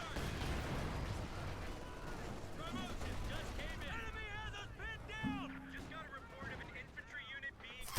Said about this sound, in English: Man, that 50 cal machine gun's great, by the way.